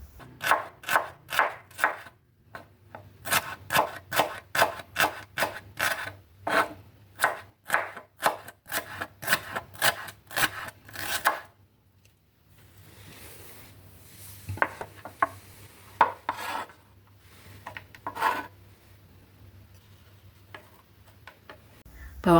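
Shallots being thinly sliced with a knife on a board, a rapid run of crisp, evenly spaced chops close by, then a pause and a few sparser, softer cuts, no talking.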